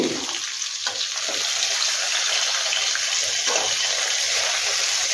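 Pabda catfish sizzle in oil in a pan as a steady, close frying hiss. A few soft clinks and bumps break in near the beginning and again later, and nobody speaks.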